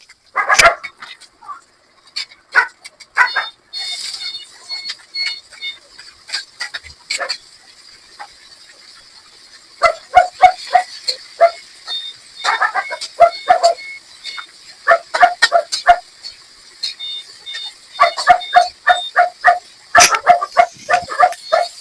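A pet dog barks and yips in irregular bursts, close and sharp, with quieter whimpering gaps between clusters of barks.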